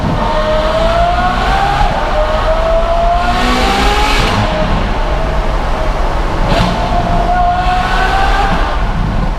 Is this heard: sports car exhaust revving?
yes